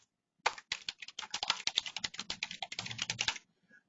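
Rapid typing on a computer keyboard while searching for a document on a PC, a close, continuous run of crisp key clicks with short pauses and no talking.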